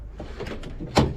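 A Honda Odyssey van's door is worked open in a junkyard: soft sliding rattles, then one sharp clunk near the end, fairly close.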